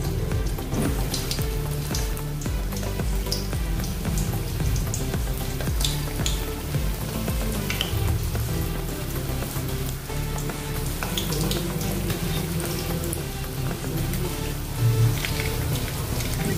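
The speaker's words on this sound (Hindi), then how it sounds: "अभी इसको हम तलेंगे।" Manchurian balls deep-frying in hot oil, a steady dense sizzle and crackle that runs unbroken throughout with no talk over it.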